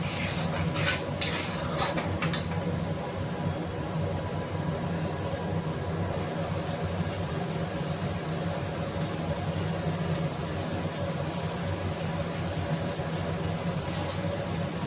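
Green chili masala paste sizzles and is stirred in a pan, a dense, steady frying hiss with continuous scraping, close and even in loudness throughout, without voices.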